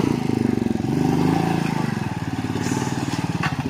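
A motorcycle engine revs and labours in rapid pulsing bursts as the bike slips along an off-road mountain trail, loud and close, with a voice faint in the background.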